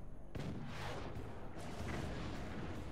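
An artillery piece firing in the video game Forts, a sudden booming shot followed by a long rumbling roar and scattered crackles of further blasts, fairly loud and alone.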